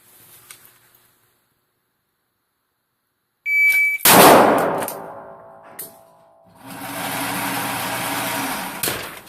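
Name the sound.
shot timer beep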